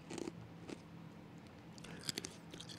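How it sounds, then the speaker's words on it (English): Ice cubes being chewed close to a microphone, a few sharp crunching bites with short pauses between them, fairly quiet with no talk. "Pardon my ice chewing."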